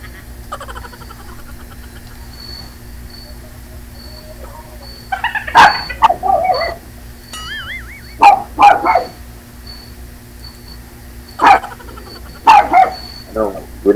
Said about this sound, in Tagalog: Maingay yung aso nyo.